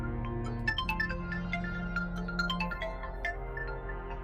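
A mobile phone plays a melodic ringtone. It is a bright, repeating run of electronic notes over a steady droning backing, loud and continuous, with no voices.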